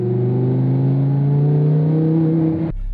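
A Lamborghini Huracan engine roars loudly and close with a deep, rising harmonic tone, as if under acceleration, before cutting off abruptly near the end.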